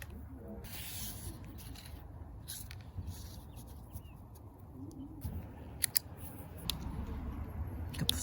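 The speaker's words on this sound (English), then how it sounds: "Okay, time to cut some gaskets." Scissors snip gasket material for a Craftsman garden tiller repair, quiet close rustling and a few soft clipped cuts scattered over the stretch.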